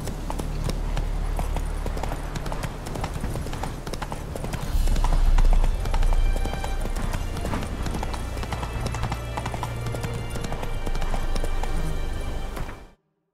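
The horse Roach gallops in The Witcher 3, with steady rhythmic hoofbeats pounding continuously at close range over a dense game soundscape, swelling louder midway before cutting off abruptly.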